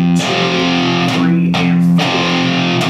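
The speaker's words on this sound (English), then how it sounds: "I'm only gonna play the 6th string with palm muting 2 times first" Distorted electric guitar playing palm-muted punk power chords from a song, loud and saturated, with chords struck and then ringing on without any voice.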